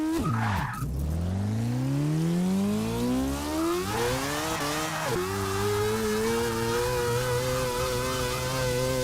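Nissan Juke Nismo RS in Forza 6 launching in second gear: a loud, close engine revs up through sweeping gear changes with brief tire squeal, climbing steadily and holding a high drone, no talk.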